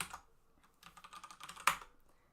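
Quick bursts of keystrokes on a computer keyboard while typing a button label in an Angular coding session, a soft rapid clatter ending in one louder key hit, close and alone.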